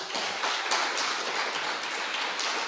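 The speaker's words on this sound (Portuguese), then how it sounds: "Você pode aplaudir o nome de Deus?" A church congregation claps together in steady, dense applause, a broad rattling patter that holds at an even level throughout with no talk over it.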